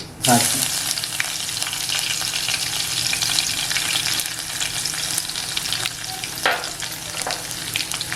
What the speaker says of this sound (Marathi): लसूण तर ही लसूण आहे ना फोडणीला टाकते